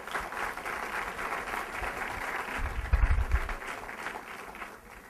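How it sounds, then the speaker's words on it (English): An audience at a Rutgers mental health talk applauds for Frank Pallone, a soft, somewhat distant patter of clapping that swells briefly midway and then fades. "So let's give Frank another round of applause."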